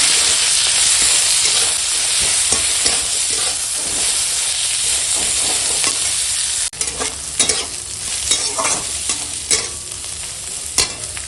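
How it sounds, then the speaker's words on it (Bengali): Bitter gourd frying in a pan with chopped green chilli and onion gives a loud, steady sizzle and hiss; partway through, the hiss drops and scraping stirring strokes come in close. "এখন দিয়ে দেবো এই যে কাঁচা লঙ্কা কুচি আর পেঁয়াজ কুচি পেঁয়াজ সঙ্গে ভাজবো"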